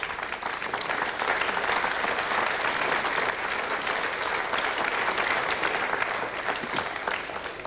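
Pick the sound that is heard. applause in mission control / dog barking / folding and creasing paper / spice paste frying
applause in mission control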